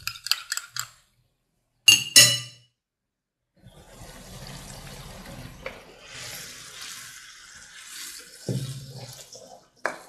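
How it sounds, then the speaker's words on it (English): A spoon clinks sharply against a bowl a few times, then stir-fry chicken sauce pours in a steady, splashy stream for several seconds, close up. "I'll give it a quick stir and pour it into the sauce"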